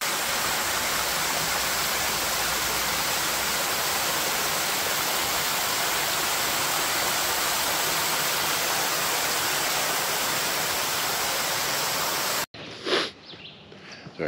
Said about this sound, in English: I love waterfalls, and that's quite a nice waterfall.